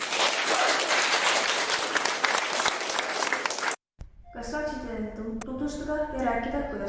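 Applause for Anu at a youth centre event in Tõstamaa, Estonia, a loud burst of many hands clapping for about four seconds, then a sudden break followed by a voice speaking.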